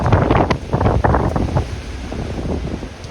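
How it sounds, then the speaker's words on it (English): Strong wind gusts above 70 mph at Blue Hill in Massachusetts buffet the microphone in loud, rough bursts with roaring turbulence, close and continuous. "Creeping gusts here at Blue Hill, over 70 miles per hour."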